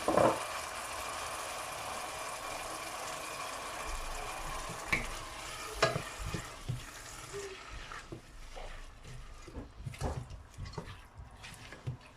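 Washed lentils (dal) are stirred as they fry in a pot, giving a steady close sizzle with scattered spoon scrapes and knocks that grow sparser and more clattery toward the end.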